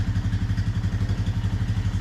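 A modified Bluroc motorcycle with a 185 cc engine runs close by with an even, rapid thumping beat, loud and steady throughout with no one talking.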